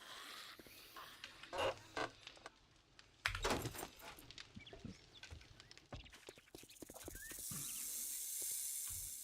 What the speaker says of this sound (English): There comes the snake.